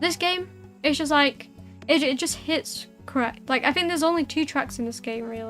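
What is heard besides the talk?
No everyday noise stands out behind the speech.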